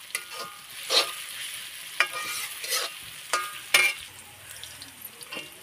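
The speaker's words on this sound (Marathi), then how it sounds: "परतून घेते मी त्याला" Chicken curry is sautéed in a large kadhai over a wood-fired chulha, with sharp utensil scrapes and clanks at irregular intervals over a soft background sizzle.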